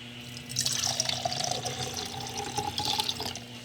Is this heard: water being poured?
yes